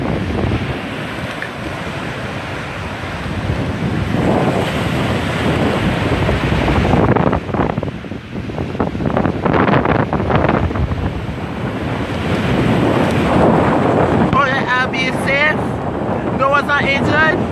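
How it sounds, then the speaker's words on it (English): Hurricane Maria winds roaring through Bridgetown, Barbados as a dense, continuous wall of gusting wind and rushing rain noise that buffets the microphone loudly throughout, with a voice speaking faintly beneath the storm. "So the wind blows like the waterfalls."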